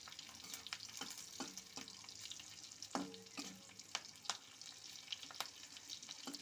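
Garlic and green chilli sizzle steadily in hot oil while a spatula stirs them, scraping and clicking in irregular strokes close by, with no talking.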